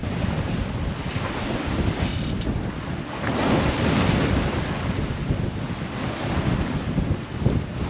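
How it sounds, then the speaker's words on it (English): Strong wind of about 15 knots roars across the microphone while waves slosh and break steadily nearby on the open Pacific between Tahiti and Hawaii, a continuous loud rush of open-sea noise with no voices. "running about 15 knots of wind"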